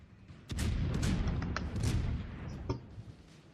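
Battleship main guns firing in World of Warships naval combat, a Russian battleship Moskva under high-explosive fire, a rapid cluster of booming shots and cracks with rumbling blasts, loud and close.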